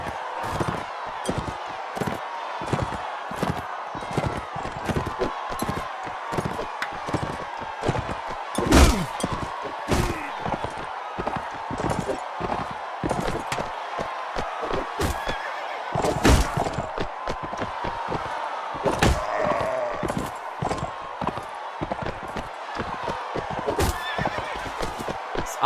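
In the video game Mount & Blade: Warband, a horse whinnies and its hooves pound in rapid, irregular thuds and clip-clops over nearly half a minute, the sharp hits and neighs standing out clearly with no talk.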